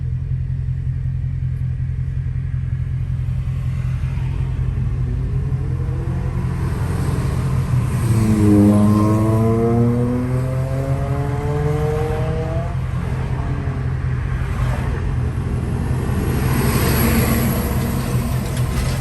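A loud Dodge Charger Scat Pack engine with a cold air intake rumbles steadily up close, then revs up and down in rising and falling surges before settling back to a heavy idle.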